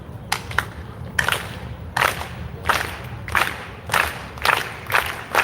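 A protest crowd at the Texas State Capitol claps in unison in an organized slow clap. The claps come as a steady series of sharp bursts about every three quarters of a second, loud and close, with crowd noise between them.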